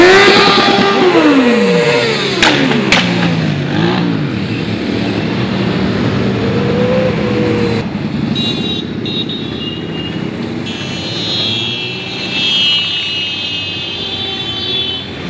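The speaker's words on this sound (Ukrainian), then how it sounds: "В центрі міста рвуть мотори" Motorcycle engines roar and rev loudly during a motorcycle rally in Rivne city centre, Ukraine, pitch rising and falling as bikes pass close by, with a continuous engine rumble throughout.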